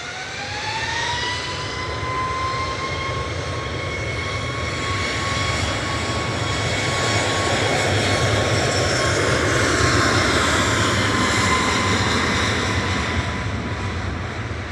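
An EasyJet airliner arriving from Lisbon touches down at Manchester Airport, a steady loud jet roar with a high engine whine sliding gradually downward, continuous and near, no voices.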